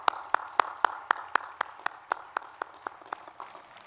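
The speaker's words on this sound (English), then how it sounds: "let's all give them a round of applause and thank them for their spectacular support" One person claps slowly and steadily at a 2021 Bradley University commencement, making about fifteen sharp, evenly spaced claps that fade slightly toward the end, with faint room noise between them.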